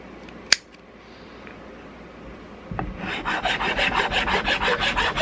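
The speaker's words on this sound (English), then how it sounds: "It's easy just scraping away." A rasp or scraper shaping a wooden stock extender for a Belgian Browning shotgun, a single sharp tap followed by steady, rhythmic close-up scraping strokes that grow louder and continue without talk.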